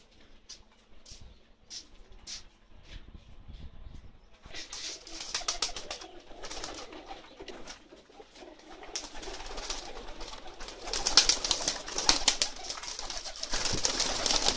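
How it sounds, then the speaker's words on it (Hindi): Racing pigeons kept on a rooftop in Jhelum, Pakistan, coo softly in a low, repeated rhythm, joined by flapping and shuffling sounds that grow busier and louder toward the end. "ये सब बाजी वाले कबूतर हैं जो ऊपर वाली छत पे रखे हुए हैं"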